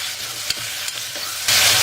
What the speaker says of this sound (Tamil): எல்லாம் போட்டு கொஞ்சம் நேரம் வதக்குங்க.